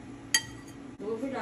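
A spoon stirring sugar into a bowl of yogurt gives one sharp, bright clink, then quieter mixing, and a voice starts speaking near the end.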